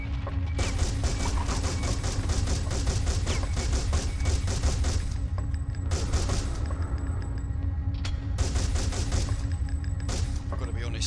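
Rapid bursts of dual pistol fire against facehuggers in the PS1 game Alien Resurrection crackle in dense volleys with short gaps, loud and repeated across the whole stretch, with faint speech underneath.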